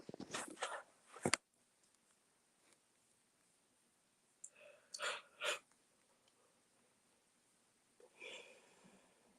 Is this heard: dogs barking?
no